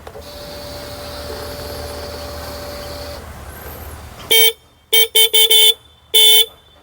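Horn on a 2023 Hero Glamour Xtec motorcycle, sounded in five short bursts of varying length after a few seconds of faint idle background, each honk clear, close and loud.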